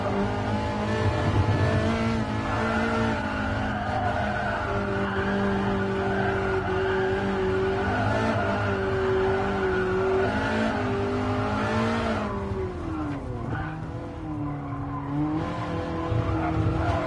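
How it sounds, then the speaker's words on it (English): Tires squeal and skid on a Ferrari F40 in Gran Turismo Sport, a long sustained screech with shifting pitch over a loud revving engine, no talk. "Car is sliding quite a lot"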